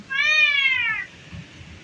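A single cat's meow, close and clear, a drawn-out cry of about a second with a falling pitch, set against quiet outdoor background noise in a village paddy field during rice transplanting.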